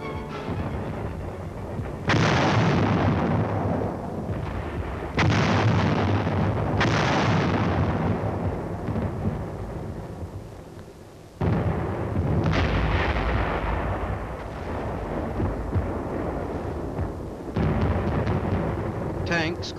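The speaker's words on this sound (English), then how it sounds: "the big guns from this forward position concentrate their fire on known and" Heavy self-propelled 155mm artillery guns firing from a forward position in the Korean War, several loud booming shots with long rumbling decay, each blast sharp and close, overlapping into a continuous roar across the stretch.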